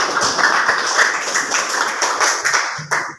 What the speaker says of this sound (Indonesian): Tepuk tangan buat kalian sendiri